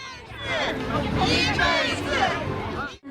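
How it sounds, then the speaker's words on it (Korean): A large outdoor crowd of Chinese tourists at a samgyetang party by the Han River cheers and chatters at once, a dense, lively babble of many voices rising and falling throughout. "유커들은 연신 환호하며 삼계탕 맛을 즐깁니다."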